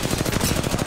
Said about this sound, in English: That's another squad shooting at us.